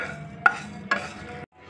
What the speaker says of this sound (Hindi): जितने भी हमने साबुत मसाले लिए हैं, धनिया, सौंफ, जीरा, कलौंजी, साबुत लाल मिर्चें, इसको हम भून लेंगे।